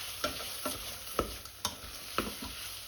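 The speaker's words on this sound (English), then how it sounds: "every so often give the onions a stir to stop them catching on the bottom" Onions cooking down in a pan for French onion soup, sizzling softly while a utensil scrapes and stirs them every half second or so in a steady rhythm, close and fairly quiet with no voices.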